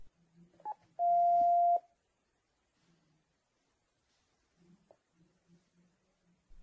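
A Panasonic KX-TES824 phone system gives a single sustained key tone lasting under a second, followed by a few faint clicks and soft button presses in a quiet room.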